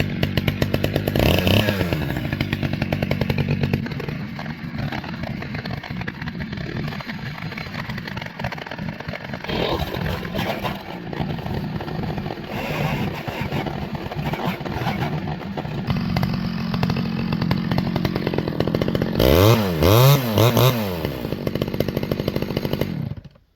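Stihl 011AV chainsaw pulled over and firing up on choke, then revving and idling loudly and steadily up close, with sharp throttle blips near the end; no talking.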